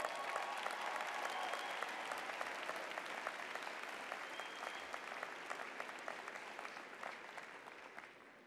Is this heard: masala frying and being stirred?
no